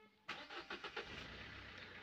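A car engine turns over with a few quick pulsing bursts, then settles into a faint, steady rumble as the car pulls away, heard from a distance outdoors.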